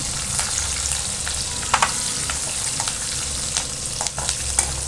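Chillies frying in ghee for vegetable upma make a loud, continuous sizzle close by, dotted with light crackles and small scraping ticks throughout.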